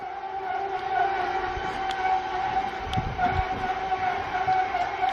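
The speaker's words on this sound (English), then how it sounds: "that's the sound of the mixer or blender or whatever that is in the background" A steady mechanical whine with a constant pitched hum drones in the background, fairly faint and unchanging, with a few soft knocks.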